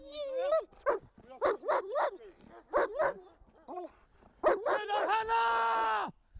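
A security dog barks in a string of sharp, evenly spaced bursts during handler training, loud and close, and someone shouts a long call near the end.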